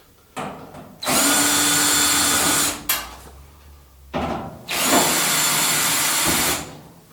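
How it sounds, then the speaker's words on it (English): Power drill backing screws out of a Kenmore 90 or Elite dryer panel: two long, loud whirring runs close up, separated by a brief pause with small clicks. "These screws are exposed, so I'm just going to go ahead and remove them real quick."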